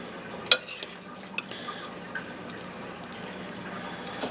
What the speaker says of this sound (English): we're just going to pull it all apart just like this with our tongs